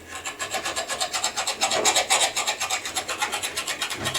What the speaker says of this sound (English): It's a straight file